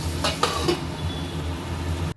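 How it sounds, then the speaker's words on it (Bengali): Potatoes and pointed gourd fry under a lid in a pan, giving a muffled, steady sizzle with a couple of light clinks before the sound cuts off abruptly. "লাল লাল করে ভাজা হয়ে গেছে আলু পটল"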